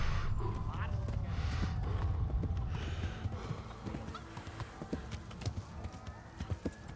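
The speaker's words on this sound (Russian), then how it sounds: "Ебаная лошадь, блять, бесполезная" A horse in the medieval role-playing game Kingdom Come: Deliverance clops its hooves in a brisk, uneven series of knocks, with a neigh among them and someone talking over the scene.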